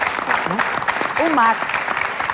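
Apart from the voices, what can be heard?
audience applause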